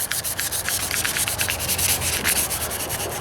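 Sandpaper rubs wet over the painted hood of a 1998 Toyota Corolla in quick, rhythmic back-and-forth strokes, a close, hissing scrape with no talking.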